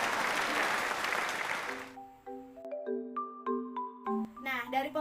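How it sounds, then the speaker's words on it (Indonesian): Classroom applause for a small-group discussion presentation: about two seconds of brisk, full clapping that stops abruptly, followed by a bright electronic chime melody of sustained tones. "Kita beri aplaus juga nih"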